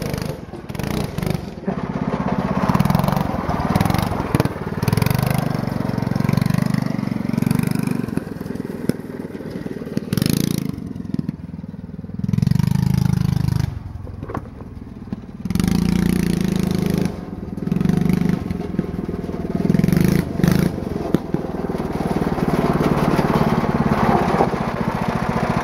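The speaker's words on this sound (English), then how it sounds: "Backfires so much with that little tiny pipe." Black Widow go-kart with an 11.5 hp engine revving and running hard through a small pipe, popping with backfires; loud, close, and rising and falling in bursts with brief drops between runs.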